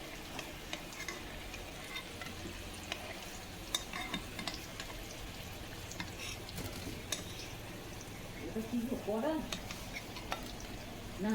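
Food, likely chicken, sizzles and is stirred in a clay kadai, a steady crackling frying sound with scraping, and a voice briefly speaks near the end.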